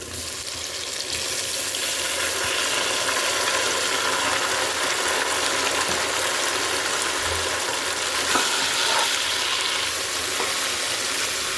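Prawns boiled with salt, chilli powder, turmeric and ginger-garlic paste frying in a hot pan for biryani, giving a loud, dense, unbroken sizzle with faint clinks, close and steady throughout.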